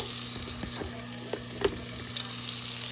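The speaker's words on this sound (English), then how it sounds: "Got the butter going in the pan. I'm gonna get some garlic in there." Garlic sizzling in melting butter in a pan, a steady soft frying hiss with small pops and the occasional scrape of stirring.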